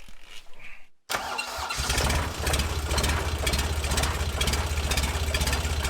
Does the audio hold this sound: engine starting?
yes